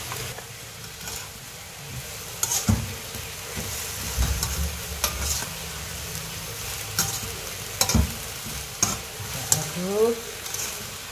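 Tauco with papaya flowers being stirred in a pan on the stove, a steady sizzle and frying hiss with scraping stir strokes and clacks of a spoon against the pan, close by; a voice is faintly present.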